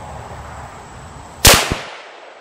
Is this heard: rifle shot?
yes